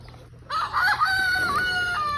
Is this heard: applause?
no